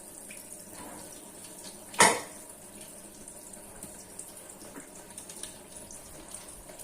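A sparrow bathes in a shallow dish of water, giving one sharp, close splash followed by faint trickling and rustling water sounds against a low background hiss.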